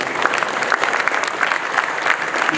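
Dense applause from an audience at a trade awards ceremony for installers, a loud, continuous wash of many hands clapping close by throughout.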